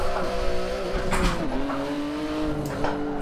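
Car tires locking up and skidding under hard braking in a racing video game, a steady engine drone with squealing tire noise running throughout, loud and continuous with no talking.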